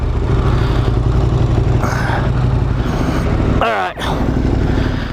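A motorcycle running Heidenau K60 Scout adventure tires, stuck and spinning in sand: a loud, steady engine drone with revving, and a brief dip near the end.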